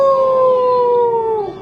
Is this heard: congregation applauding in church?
no